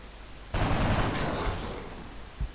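Sniper rifle fire in XCOM Enemy Unknown: one loud, sudden blast with a long rumbling tail that fades over about two seconds, followed by a short low thump, with no voices.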